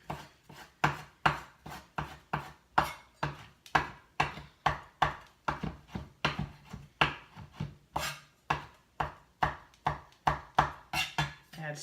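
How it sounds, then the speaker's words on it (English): A knife chops repeatedly on a cutting board while preparing an ingredient for Indian lentil soup. The strikes are steady and close, about two per second, with no talking. "I'm going to chop this up a little bit."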